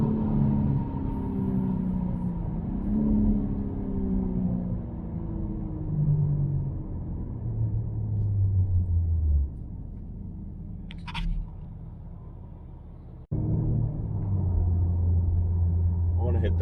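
A 2021 BMW M3 accelerates in second gear with a brief wheelspin, the engine rising in pitch through several upshift-like sweeps, fairly steady and moderately loud inside the cabin, dropping off and then returning briefly near the end.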